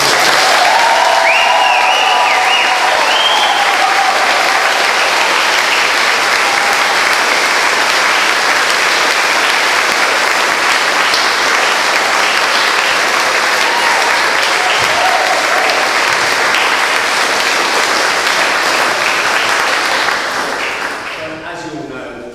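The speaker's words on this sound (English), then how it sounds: "So we all have a huge round of applause." Long, loud applause from a large audience at a Year 6 school play, many hands clapping in a dense, steady roar that holds for about twenty seconds before tapering off, with some voices mixed in.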